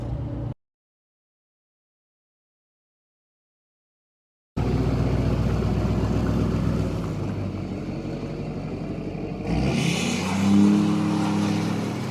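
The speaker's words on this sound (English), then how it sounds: "You know when a truck's coming down the road with mud tires and you hear them before you see them." A truck on Federal Explora M/T mud-terrain tires drives along a road. A brief sound is followed by a few seconds of silence, then a steady tire and engine drone comes in that swells louder near the end as it passes close by.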